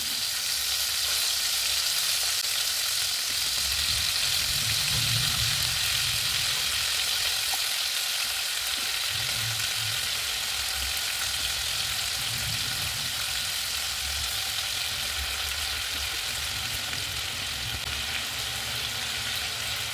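Chicken pieces fry in a pan over lowered heat, a steady, close sizzle and crackle of hot oil running continuously with occasional stirring, no voices.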